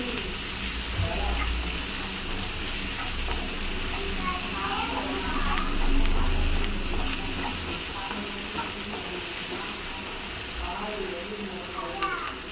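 Onions frying in a pan for a prawn fry, a dense close sizzle running the whole way with faint stirring scrapes, under a person's talking.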